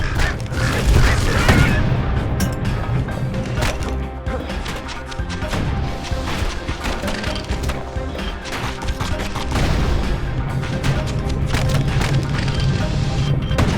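Security skiffs keep up a barrage of crashing, booming hits on a ship in Bastion, dense and continuous over a heavy low rumble, the impacts loud and near throughout.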